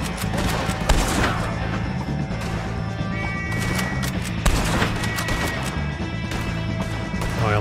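Gunfire rings out in a Red Dead Redemption 2 shootout, sharp shots scattered through a dense, busy mix of horse whinnies, hoofbeats and music, with several louder cracks near one and four and a half seconds.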